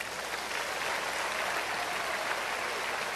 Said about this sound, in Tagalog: Ako ang gustong gumaling, pumalakpak.